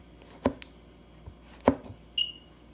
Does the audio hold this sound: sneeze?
no